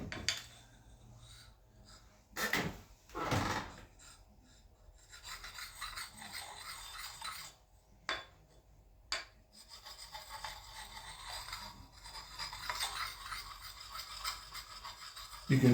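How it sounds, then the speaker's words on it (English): A file or hone rasps repeatedly along the edge of an axe with a white oak handle. The strokes are close and fairly quiet, steady and scraping, with a few louder rubs and no voices. "You can hear how clean that sounds when I'm doing this, because the edge is nice and clean."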